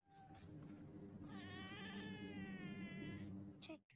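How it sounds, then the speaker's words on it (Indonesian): A single drawn-out cat yowl, loud and close, rising and wavering for a couple of seconds over low background noise. "Saat Kate sedang tidur, ia terbangunkan oleh suara kucing kesayangannya Beth."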